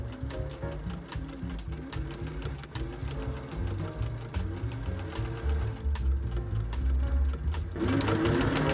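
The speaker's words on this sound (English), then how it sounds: "Then this time I'm going to sew from this end to the center." A sewing machine stitches a seam on a newsboy cap, running fast and steadily with a close, rhythmic mechanical chatter throughout and no talk.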